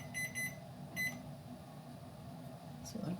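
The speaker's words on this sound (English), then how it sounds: "I gotta set a timer." A kitchen timer being set gives short electronic beeps, two quick chirps near the start and another just after a second, faint against low room hum.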